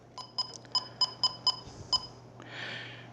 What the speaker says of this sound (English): gotta shut the alarm off